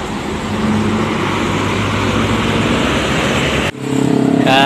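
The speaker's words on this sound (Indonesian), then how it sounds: "Ini ada Garuda Mas 7598 dengan julukan Ferrari persiapan berangkat ini." A Garuda Mas coach bus, number 7598, nicknamed Ferrari, idles at Terminal Ngubuk ahead of departure, its engine giving a steady, loud drone with a brief dip near the end before the rumble resumes.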